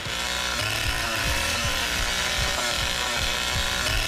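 A chainsaw runs continuously in The Texas Chain Saw Massacre video game, a harsh buzzing engine drone with repeated revving surges, steady and fairly close.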